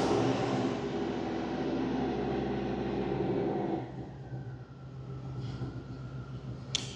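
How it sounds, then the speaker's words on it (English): Another car's engine runs in a repair shop, a broad steady drone that is loud at first, then drops to a quieter hum with a brief sharp click near the end. "I'm not able to filter out the engine that just started, it's not this vehicle, it's another car that we have here in the shop"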